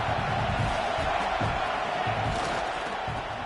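A football stadium crowd at an Oklahoma vs Michigan game roars in a steady, dense wash of cheering that holds loud and unbroken, with no clear single voices standing out.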